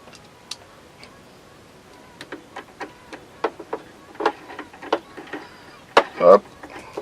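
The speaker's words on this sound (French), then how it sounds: "Maintenant on va installer le couteau supérieur" Small metal parts of a PFAFF 1450 OL overlocker click and tick sharply as the upper knife is fitted, a string of close, dry taps with a louder rattling clunk near the end.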